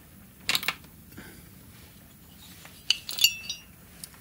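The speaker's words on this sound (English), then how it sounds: "So let's get the cylinder bolts out." Cylinder bolts being removed from a Husqvarna 365 SP chainsaw: a few sharp metallic clinks and taps of tools and small bolts in a quiet room, spaced out over a few seconds.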